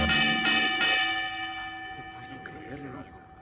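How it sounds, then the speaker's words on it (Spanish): A boxing ring bell in an anime sparring scene rings several quick metallic strikes at the start, leaving a long sustained ringing tone that decays while voices speak over it. "¡Toquen la campana!"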